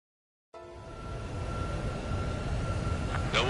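A fighter jet taxiing in Ace Combat 7 starts up after a brief silence, giving a steady, fairly loud engine rumble with a sustained whine that holds throughout and swells slightly near the end.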